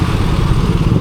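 A bus from Taps passing by on the road, its engine a steady, loud low rumble throughout the short moment.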